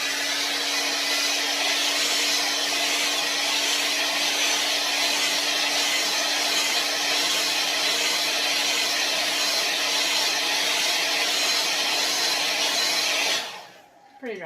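A hair dryer runs at a steady, loud, unbroken roar for over ten seconds, drying homemade clay paint on a grainsack stencil, then switches off abruptly.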